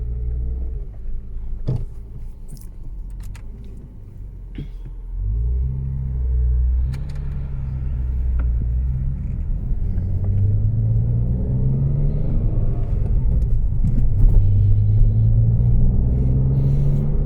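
A Ford Mondeo ST220 with fault code P0443 drives on the road: a steady, close engine rumble with road noise that swells as it pulls away and holds through the run.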